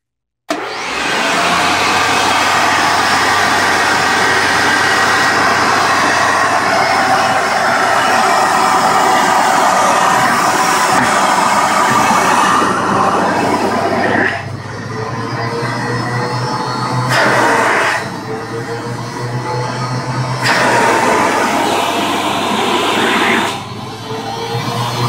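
A Spencer portable industrial vacuum cleaner runs with a loud, steady motor whine and hiss that hold for most of the stretch, then dip and surge a few times near the end, with no voices.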